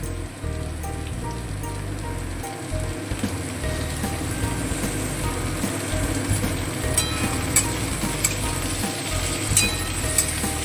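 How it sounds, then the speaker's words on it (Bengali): Thinly sliced papaya sizzles in hot oil with mixed vegetables for a Bengali jackfruit-seed curry, a steady crackling hiss with scattered clinks of a utensil against the pan, fairly close and with no talking. "কেটে রাখা পেঁপেটা তেলের মধ্যে দিয়ে দেবো"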